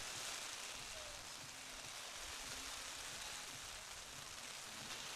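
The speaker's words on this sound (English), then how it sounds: "Rain, rain, go away." Steady rain falls during a softball game, a dense, even hiss of drops that holds at the same level for five seconds. No voices or other sounds break through.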